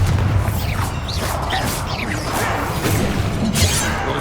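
Fire spell explosions from the Confringo curse in Hogwarts Legacy combat, loud bursts and booming impacts with swooshing whooshes that come in quick succession over a dense, continuous battle din.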